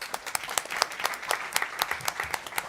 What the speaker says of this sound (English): just round of applause for all of our staff before we start.